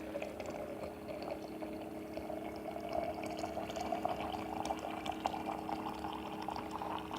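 Tea boiling in a pot on the stove, a steady, soft bubbling and hissing that runs evenly throughout with no voices.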